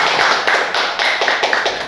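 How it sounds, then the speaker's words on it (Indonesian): Audience clapping for a traditional arts group at a community event, heard as loud, close applause with a few sharper rhythmic claps within the steady wash. "Sekali lagi kita berikan tepuk tangan untuk Batajau Seni Piaman."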